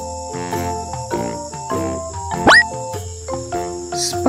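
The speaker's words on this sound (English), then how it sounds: "Grasshopper." A grasshopper bug toy gives an electronic chirping sound, a repeated pulsing buzz over a steady musical background, with one sharp rising sweep partway through.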